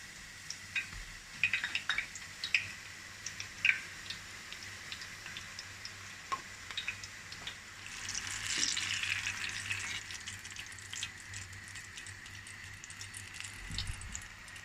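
Eggplant pieces fry in oil in a pan with a soft, continuous sizzle, punctuated by faint ticking pops and occasional scrapes of stirring, rising briefly to a louder hiss midway.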